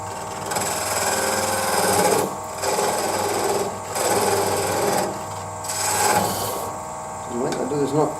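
A spindle gouge cuts the spigot off a wooden tealight holder spinning on a lathe, giving a steady whirring scrape that swells and pauses in several passes, with a voice talking faintly underneath.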